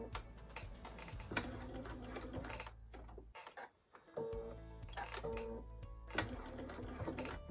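A sewing machine runs in fast continuous bursts while stitching along a fabric edge, pausing briefly in the middle as the presser foot is lifted with the knee lever, then resuming with a steady mechanical whir close by.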